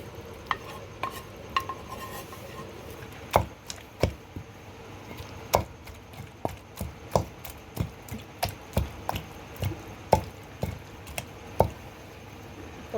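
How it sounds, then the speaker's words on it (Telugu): Tomato and other ingredients for a cucumber chutney being pounded by hand, a steady run of sharp, close thuds at roughly one per second, each with a soft squish, with lighter scraping and stirring between the blows. "ఇలా అయితే దంచుకోవాలి"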